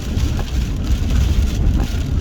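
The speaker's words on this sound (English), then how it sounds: "it is a rainy, snowy mix type of Monday morning, just leaving work." Rain and wet snow beating on a car while it drives on a Monday morning, a steady dense patter and hiss over a low road rumble, continuous and fairly loud with no voices.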